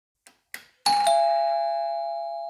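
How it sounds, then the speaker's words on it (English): A smart doorbell wired through a Shelly 1 relay and linked to an Alexa Echo speaker gives a couple of soft taps, then one loud, clear ding-dong chime that rings out and slowly fades. "Enable the doorbell press event and pick a custom chime sound that you like."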